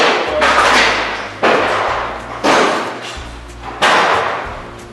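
Heavy demolition thumps during a subfloor renovation, four loud broadband crashes arriving roughly a second apart, each followed by a decaying rumble and debris clatter, with no voices.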